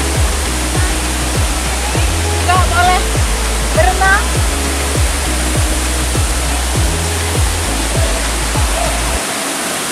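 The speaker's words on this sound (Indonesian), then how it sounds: "kita benar-benar menikmati kesantunan air terjun yang melimpah ruah" Aek Martolu waterfall in Sibolga, a loud, steady rushing roar of falling water filling the whole scene close by, with a person speaking briefly over it and a rhythmic low thumping beneath.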